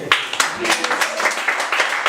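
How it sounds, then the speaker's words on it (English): Audience applause fills a live show after a crowd member says they work in finance education, a steady burst of clapping with some cheering, fairly close and loud, lasting the whole moment. "Round of applause for that."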